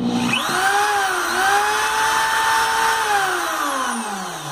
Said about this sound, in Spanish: Arrancamos nuestro taladro.